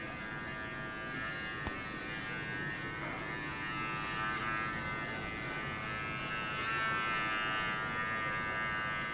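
An electric hair clipper buzzes steadily and loudly up close through a professional haircut, running continuously with slight shifts in tone as it moves through the hair.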